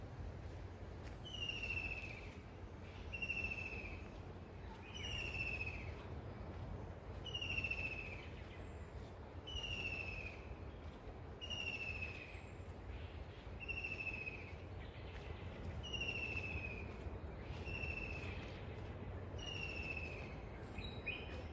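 Several birds call from the gardens of a Konkan nature spot in Guhagar, a repeated sharp high whistle sounding about every two seconds over a steady hum of wind and distant ambience, with no talk.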